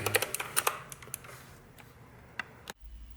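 Keys clatter on a MotoSpeed CK61 mini mechanical RGB keyboard, a quick burst of sharp clicks that thins into a few scattered taps, close and fairly quiet, with no voices.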